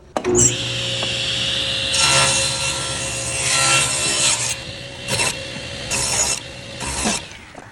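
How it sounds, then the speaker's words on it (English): A table saw rips barnwood panels, with the blade set about a quarter inch above the stock: a loud, sustained cutting whine broken by short gaps and renewed bursts as boards pass through. "we'll go ahead and go over the table saw, take our panels and rip these down"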